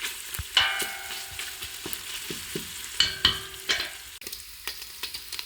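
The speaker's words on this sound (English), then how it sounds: "you'll start hearing more popping as opposed to sizzling" Bacon sizzles steadily in a pan, broken by frequent sharp pops and crackles, close and fairly loud.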